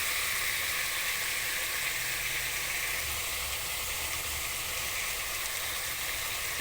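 Previously fried chicken tossed into a pan of frying rice and egg for restaurant-style chicken fried rice, giving a loud, continuous hissing sizzle throughout, with faint low scraping from stirring and no voices.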